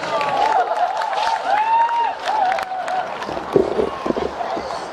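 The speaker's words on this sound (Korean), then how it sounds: "박수 부탁드릴게요" Scattered applause and crowd noise rise from an outdoor audience at a b-boying breakdance show, mixed with music tones and sporadic sharp claps at moderate distance.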